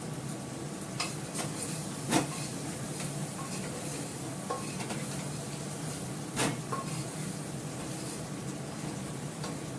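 A curry base of spices sizzles steadily in a pan during stirring, with a few sharp clinks of the spoon against the metal over the continuous frying hiss.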